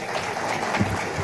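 Audience applause at a Uganda–Somalia investment and business summit, a steady wash of clapping from the crowd through the whole brief moment with no talking.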